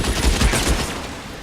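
Gunfire in a shootout in the video game L.A. Noire: a few heavy, booming shots over dense, steady noise, with no speech.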